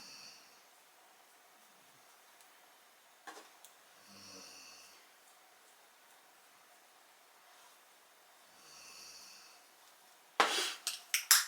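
A pet snores softly in a quiet room, with a few slow, faint breathy snores spread apart, followed by a louder burst of clattering noise at the end.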